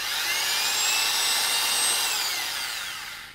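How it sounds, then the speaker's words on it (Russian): A small high-pitched drill whines steadily while boring holes in a homemade respirator mask, one continuous close run that fades slightly at the end. "Ну и так сверлим все."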